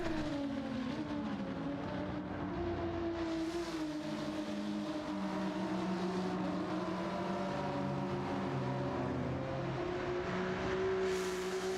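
Alfa Romeo V6 race car engine in Gran Turismo 7, alongside a Ferrari V8 in the field, giving a continuous loud engine drone whose pitch rises and falls with shifting revs. No one speaks over it.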